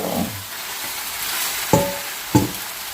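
Vegetables sizzle in a pan with no oil, a soft steady hiss near the mic. Two sharp clacks of the stirring utensil against the pan sound late in the clip.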